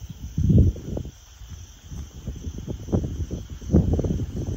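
Crickets and other insects chirp steadily in a deep forest on a rainy night, a faint high continuous trill running under soft rustling and low swells of wind, with no voices.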